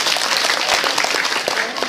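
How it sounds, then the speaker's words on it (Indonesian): Audience applause at a health talk, dense steady clapping from many hands filling the space at full level throughout, with no break. "Tepuk tangan."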